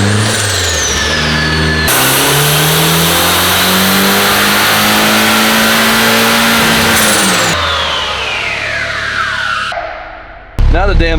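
A rear-wheel-drive Honda Civic engine revs hard on a dyno, a loud sustained wail climbing in pitch and then falling away, with a brief burst of noise near the end.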